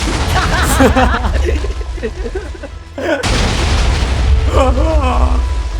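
A deep boom of a ground firecracker or TNT blast in the Minecraft video game, one heavy burst cutting in midway, with excited voices talking and shouting before and after it.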